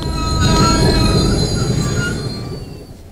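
A train pulls in with a loud, sustained metallic screech of wheels squealing on the rails, held steady for a few seconds before easing off slightly at the end, heard close by with no talking.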